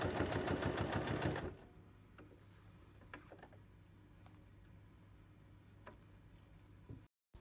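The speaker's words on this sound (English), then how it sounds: "Fold them wrong sides together and top stitch the seam 2 millimeter from the edge." A sewing machine top-stitches a fabric seam 2 millimeters from the edge, its rapid mechanical whirr loud for about a second and a half before stopping, followed by quiet handling clicks.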